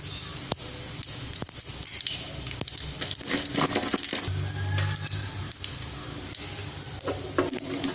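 Mustard seeds spluttering in hot oil with urad dal, chana dal and cumin for a brinjal curry, a dense close crackle and sizzle with sharp pops scattered throughout, without talking.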